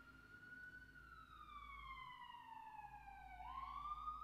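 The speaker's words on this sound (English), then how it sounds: "Sorry about the ambulance." Ambulance siren passing outside, a faint distant wail that slides slowly downward in pitch then jumps back up, heard indoors at low level over a quiet background hum.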